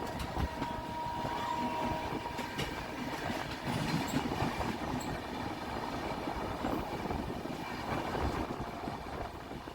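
Barbil Jan Shatabdi Express rolling along the rails on the Howrah–Tatanagar line, a steady loud rumble with rhythmic wheel clatter and faint metallic squeal throughout, no voices.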